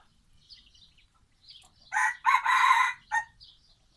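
A young rooster, molting with its tail feathers coming in, crows once in a backyard flock. The crow is loud and close, with a rising start and a long held call, alone over faint bird chirps.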